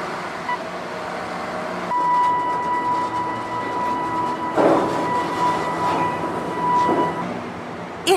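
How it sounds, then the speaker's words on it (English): A remote-controlled scrap bucket train rolling through a steel mill yard, with a steady rumble, squealing wheels and clanking rail noises at moderate distance. "The scrap bucket train will take it directly into the steelmaking mill."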